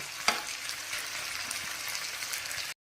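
Chili chicken sizzles and fries in a hot pan while being stirred, a continuous crackling hiss with a sharp scrape near the start, ending abruptly in silence.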